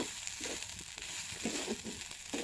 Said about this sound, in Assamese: ইয়াতে নাৰিকল নাৰিকল ভাজি আছোঁ ইয়াতে চেনি চেনি দি দিম